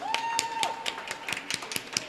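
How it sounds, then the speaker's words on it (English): Sparse, scattered clapping from a small audience at an indoor ceremony marking the Language Access Act's 10th anniversary, a few distinct claps spaced through the moment over a faint steady tone. "please give him another big round of applause"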